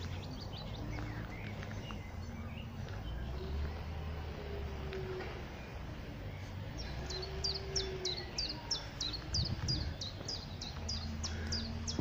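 Birds sing outdoors at a heritage railway in Fife, a rapid series of high, bright chirps repeating in the second half, fairly clear over a steady low rumble of distant traffic or engines.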